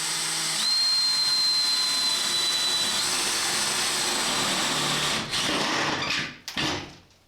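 Power drill boring a hole for a vent pipe on a house roof, a continuous high whine that runs steadily and then cuts off with a few sharp knocks and thumps near the end.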